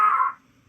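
A person imitates a seagull call with a single short, bright, nasal cry that quickly fades into quiet.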